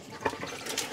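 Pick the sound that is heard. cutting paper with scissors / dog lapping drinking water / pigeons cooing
dog lapping drinking water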